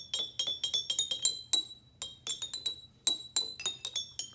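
Glass jars in a homemade jar xylophone are tapped gently, giving bright ringing clinks in quick uneven runs with short pauses between groups. The tones are high, close and fairly quiet, and no one speaks.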